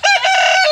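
A naked neck rooster on a backyard farm with chickens, ducks, geese, guinea fowl and peafowl crows once, loud and close, a strained harmonic call that rises and then holds and trails off, with no talking over it.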